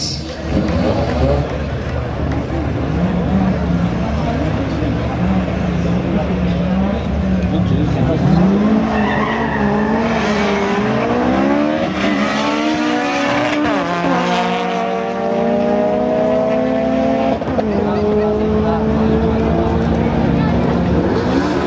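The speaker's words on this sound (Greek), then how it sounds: "Με ένα σπάνιο αμάξι, ένα RSX." A rare Acura RSX launching at a drag race in Athens, loud engine revving with rising gear-change sweeps over continuous crowd and announcer noise.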